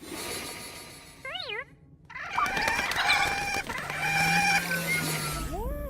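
Porgs from a Star Wars film make bird-like warbling chirps and squawks, a short wavering call followed by a busier burst of chattering, fluttery cries.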